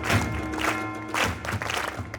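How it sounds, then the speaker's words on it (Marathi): A group applauds to welcome a guest at a school building inauguration at Karmaveer Bhausaheb Hire Vidyalaya, Harsul. The clapping comes in uneven bursts over a steady tonal hum. "स्वागत होत आहे जोरदार टाळ्या"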